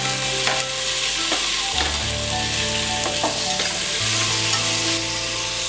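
Chopped tomato sautés and sizzles in a pan for a Kerala-style beef curry, stirred with steady scraping strokes; close, continuous frying with no talking.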